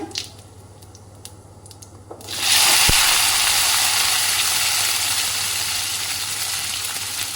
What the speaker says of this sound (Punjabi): ਉਸ ਤੋਂ ਬਾਅਦ ਆਪਾਂ ਪਾ ਰਹੇ ਹਾਂ ਉਹਦੇ ਵਿੱਚ ਪਿਆਜ਼